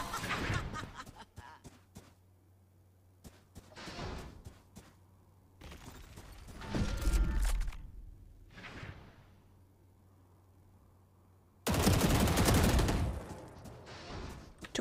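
Video game gunfire in bursts: a few scattered shots early on, a heavier volley around the middle, then a loud sustained barrage near the end, with quiet gaps between.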